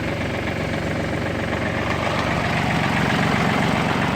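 A small tractor engine idles alone, a loud, steady, close low drone with a continuous vibrating hum and no speech.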